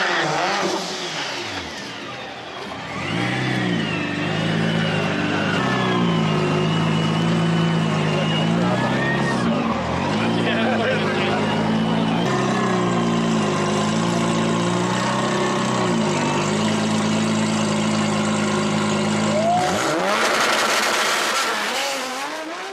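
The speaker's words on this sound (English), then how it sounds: "you want to hear this raw turbo when it lets off" A turbocharged car engine revs hard and holds high, with the turbo whining and spooling up and then letting off. The sound is loud and sustained, and a voice talks faintly under it.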